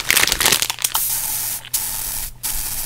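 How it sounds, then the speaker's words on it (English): Disinfectant spray from a handheld can hisses in several close, loud bursts, the first long and rough, then two short sharp puffs with quiet gaps between. "Let me get the spray, hang on."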